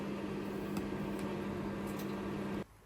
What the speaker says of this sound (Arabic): سيحت الزبدة في الميكروويف